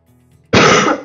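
A single sharp throat-clearing cough bursts out after a moment of near silence, followed by a shorter second rasp.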